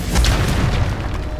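A deep, booming spell blast from the Confringo curse in Hogwarts Legacy, cast by an altar, one heavy low rumble that fills the short moment and fades slowly.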